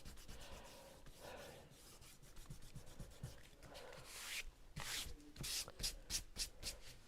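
An eraser rubs over a dry painted surface to remove graphite pencil lines, heard close up as soft scrubbing strokes that grow quicker and more rhythmic toward the end, with no talking.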